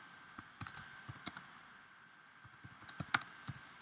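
Clatter of computer keyboard keys being typed in quick irregular bursts, with a pause in the middle, close and fairly quiet against a faint steady hum.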